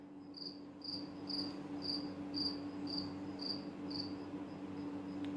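Close cricket chirps in a steady, evenly timed series of about nine pulses, fading near the end, over a low droning hum with no talking.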